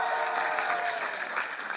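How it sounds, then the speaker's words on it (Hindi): Sustained clapping fills a theatre after a National School of Drama performance, a thick continuous patter from a large audience, fairly loud and unbroken, with a brief voice faintly tucked under it. "जोरदार तालियां उनके लिए भी।"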